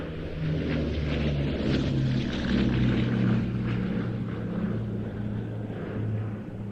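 Bristol Blenheim Mark I, short-nosed, at the Old Buckenham Airshow, its piston engines giving a steady moderately loud droning hum with slowly shifting tones, heard alone without voices.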